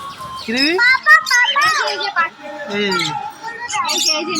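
Lovebirds and cockatiels chirp and tweet in quick, overlapping bursts at a roadside bird market in front of Barrackpore station, close and lively, with faint crowd murmur underneath.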